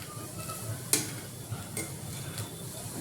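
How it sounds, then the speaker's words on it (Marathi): Chilli powder and salt masala sautéed in a pan, a soft steady sizzle with a few light scrapes and clicks of a spoon stirring against the pan. "त्यानंतर त्याला व्यवस्थित आपण परतवून घेऊयात"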